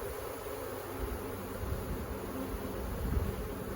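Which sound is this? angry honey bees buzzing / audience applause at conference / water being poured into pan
angry honey bees buzzing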